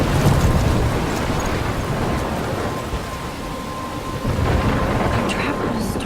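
Steady, loud wash of rain and rumbling thunder from a thunderstorm in the game Life is Strange, continuous throughout, with no voices.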